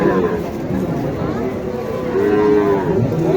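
A Sahiwal bull lows at the Mataji cattle market in Naogaon, a long, wavering moo carried over a steady murmur of market crowd noise.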